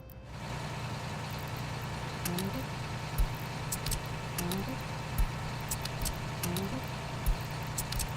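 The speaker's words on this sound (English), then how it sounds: "Sorry about the idling noise, it's a glitch." A steady, low vehicle engine idle drones continuously as a glitch in a video game, with faint ticking clicks scattered over it and soft talk in the background.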